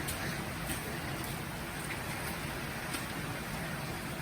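Autumn rain falling steadily on a farm, a soft even hiss of drops with no breaks, fairly faint and without talking.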